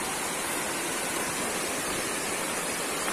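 Daranak Falls in Tanay, Rizal pours in a constant, loud roaring rush of water, heard close and steady throughout with no talk.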